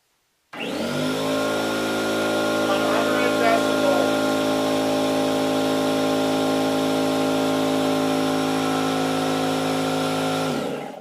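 A California Air Tools CAT-4620AC ultra-quiet, oil-free 2 HP air compressor with a 4.6-gallon tank starts up and runs with a steady, tonal motor hum for about ten seconds, then spins down.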